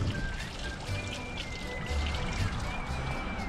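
Water flows in a decorative artwork fountain on a town square in Pilsen, making a steady, close splashing rush with faint high tones drifting over it.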